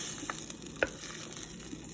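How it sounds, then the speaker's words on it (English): Red bean seasoning sizzles and fries in a pot for a Louisiana-style meatless red beans and rice, a steady close crackle with a brief stirring clink near the middle. "Sizzling."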